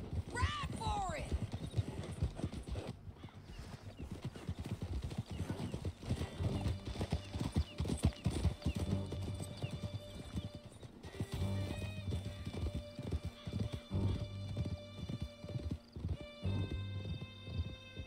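A horse gallops in Red Dead Redemption 2 with steady, close clip-clop hoofbeats throughout and a few whinnies, while voices talk over the ride.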